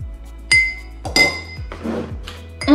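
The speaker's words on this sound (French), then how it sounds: "un grand mug tout neuf, en verre, et sa cuillère." A new glass Nespresso Vertuo mug and its long spoon clink while handled up close, several bright ringing taps spaced out, each decaying quickly, with no talk.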